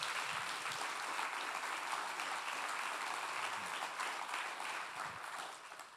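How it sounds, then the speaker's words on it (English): A concert audience at a Nashville country music museum event breaks into sustained, loud applause that fills the whole stretch, a dense wash of clapping with no talk over it. "Give Show Pros Steel Guitars a round of applause."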